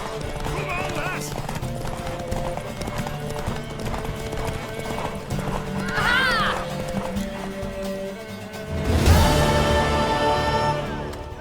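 A mare galloping with rapid hoof clip-clop and brief neighs in The Witcher 3, continuous and close, with voices talking over it.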